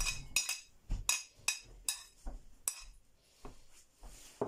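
Grated garlic spooned out onto cooked meat for a Russian jellied-meat dish, heard as a run of sharp metallic clinks of a spoon against a bowl, roughly evenly spaced, close and fairly quiet, with no talking.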